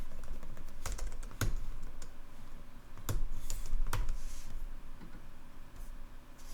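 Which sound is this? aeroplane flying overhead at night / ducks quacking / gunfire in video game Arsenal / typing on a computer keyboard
typing on a computer keyboard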